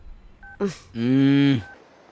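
A phone gives a short electronic ring tone, a brief tonal burst followed by a longer sustained harmonic tone, alone in a quiet indoor scene.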